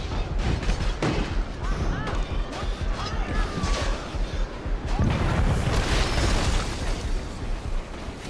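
Explosions and booming blasts from the medieval combat video game Chivalry 2, loud and continuous with dense rumbling bursts throughout, a fresh heavy blast near the middle, and voices mixed into the battle din.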